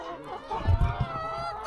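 A few low honking fowl calls sound close by over a steady engine-like hum, with brief clucking bursts in the middle.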